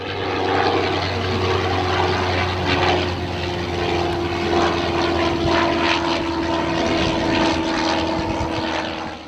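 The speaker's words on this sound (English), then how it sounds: "This aircraft, built for American collector Kermit Weeks, is finished in the colours of one flown by Canadian ace William George Barker" A Sopwith Snipe WW1 biplane fighter drones steadily with its engine and propeller, a continuous loud buzzing roar with a sustained tone and slight rise and fall in intensity.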